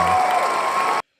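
A short burst of cheering and applause from a small group, bright and busy for about a second before cutting off abruptly into silence.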